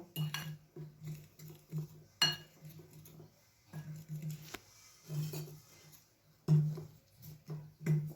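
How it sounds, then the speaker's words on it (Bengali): Cauliflower being mixed with ginger garlic paste in a bowl, heard as repeated clinking and scraping of a utensil against the bowl in irregular bursts with short pauses, close and clear. "এবার আমি এটিকে খুব ভালোভাবে মিশিয়ে নেব।"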